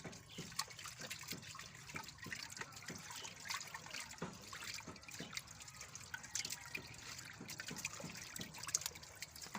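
Cassava tubers are put into water by hand, with continuous splashing, trickling and dripping, sounding close but faint.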